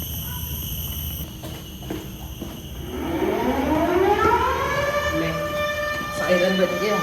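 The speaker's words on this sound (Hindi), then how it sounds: "सायरन बज गया" A siren winds up from low to high, a loud rising wail that swells and holds over steady background rumble, at a tunnel attraction on Sentosa Island, Singapore.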